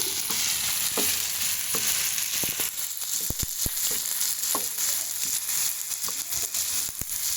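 Goat intestines frying in fat in a pan, a dense, continuous sizzle with occasional sharp pops and the scrape of stirring, close and loud with no voices.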